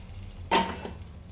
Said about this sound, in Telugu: ఇందులోనే 2 ఎండుమిర్చి వేసుకొని కొంచెం ఫ్రై కావాలి